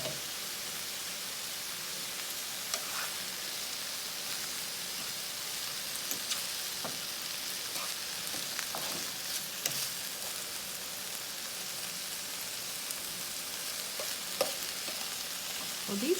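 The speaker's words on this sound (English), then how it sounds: "I think I'm going to stir it about every 2 minutes." Frozen Aldi chicken lo mein sizzles and fries in a skillet, a continuous hissing crackle with occasional scraping stirs, close and steady with no talking.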